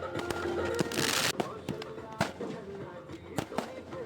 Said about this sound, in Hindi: उसके बाद इसीलिए वहां पर आतिशबाजी की गई और जश्न मनाया।